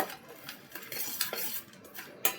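Metal spoon scraping and clinking against a pan while puffed rice masala is stirred, a series of close, light scrapes and taps with no talking.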